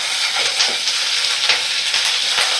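Ginger-garlic paste for a chicken kala bhuna curry sizzles steadily in a hot pan, a dense continuous frying hiss with faint scraping stir strokes, close and loud, with no talking.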